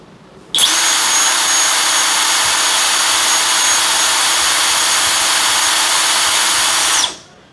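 A Dongcheng cordless brushless impact wrench spins freely at its third speed setting, a loud, steady high whine that starts abruptly, holds for about six seconds, then winds down, close by with no talk.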